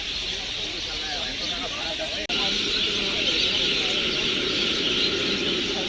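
Birds chirp steadily in a busy outdoor setting near Kolkata airport, a continuous high twittering chorus over broad background noise, with a brief dropout partway through.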